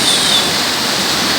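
The Si Karim waterfall, sitting about 1,800 metres above sea level, roaring as a loud, steady wash of falling water, close and continuous with no other sounds.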